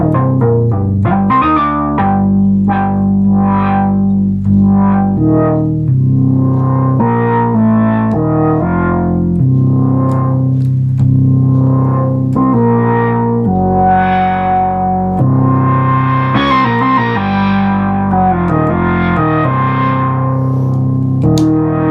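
A restored 1972 Minimoog synthesizer with a newly installed buffer board plays a loud, sustained melodic line with shifting, swelling tones and gliding notes, close and continuous, no voices.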